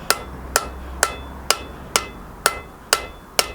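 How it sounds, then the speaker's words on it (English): Blacksmith's hammer striking hot steel held off the edge of an anvil while forging a medieval spear, eight sharp ringing blows in a steady, evenly spaced rhythm, loud and close with no voices. "off the edge of the anvil, so the hammer's got somewhere to go"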